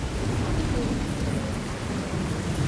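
Heavy rain with rolling thunder, a dense continuous hiss of downpour over a deep sustained rumble, loud and close, with no voices.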